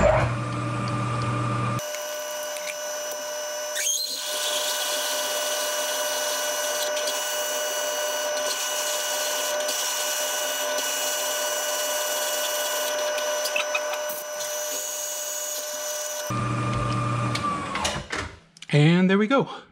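A drill drives a 3/4 inch reamer held directly in the collet through a bore in a clapping machine prototype part, a steady whining hum with tonal lines running for about fifteen seconds before stopping, then brief handling noises.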